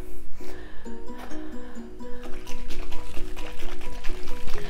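Salt water trickles and splashes into a small container as about 5 ml is poured, a short, close, gurgling fill with rising watery tones and faint background noise.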